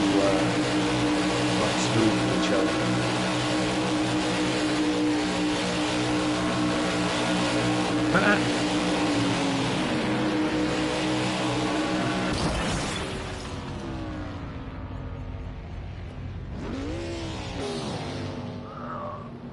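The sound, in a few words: race cars running together at Daytona 500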